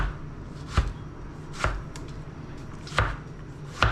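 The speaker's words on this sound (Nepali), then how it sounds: "टमाटर यत्रो डाइसमा यत्रो काट्यो हुन्छ" Knife dicing a tomato on a cutting board: four sharp, evenly spaced chops about a second apart, close and clear, with no talk.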